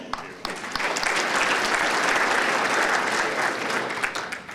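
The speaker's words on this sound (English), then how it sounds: "Give me a round of applause." A round of applause at an American Legion gathering, steady hand-clapping from a crowd holding for a few seconds after a brief voice, then tapering off.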